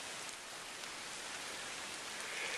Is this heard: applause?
no